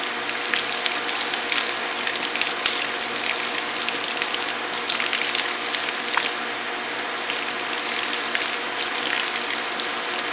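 Water splashes steadily onto a wild mustang outdoors, a dense continuous spray-like wash lasting about ten seconds, close and fairly loud, with no voices over it.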